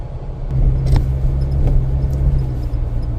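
A 2023 Chevy Colorado Trail Boss pickup churns through soft beach sand on Padre Island, its engine a steady low rumble that holds loud and close, with a few faint clicks and rattles over the drone.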